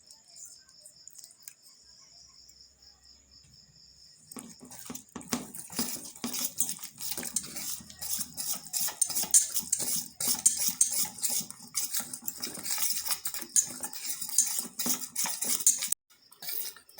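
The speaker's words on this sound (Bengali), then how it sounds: "এইভাবে ব্যাটারটাকে মিলিয়ে নেবেন সব কিছু অ্যাড করার পরে একটা হুইস্কার দিয়ে" A whisk beating pakora batter for cauliflower fritters in a bowl, a fast continuous scraping, clattering rattle that starts after a quiet opening and keeps going steadily, close and fairly loud, with no talk.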